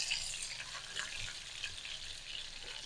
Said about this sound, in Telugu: కాకరకాయలన్నీ మనము అటు ఇటు అనుకుంటా ఫ్రై చేద్దాం